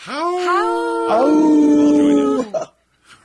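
Wolves howling in long, rising and sustained tones, two overlapping howls close by and loud, cutting off abruptly near the end.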